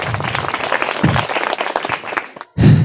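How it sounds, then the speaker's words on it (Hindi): Students in a school classroom burst into loud applause, a dense round of clapping that swells and then fades, followed by a brief pause and a final short burst. "जोरदार तालियां इनके लिए।"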